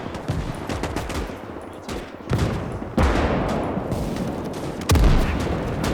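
Gunfire and explosions from the Gates of Hell battle at Summa on the Mannerheim Line: loud sharp blasts strike at intervals amid continuous crackling rifle and machine-gun fire, with one mine-like boom near the end.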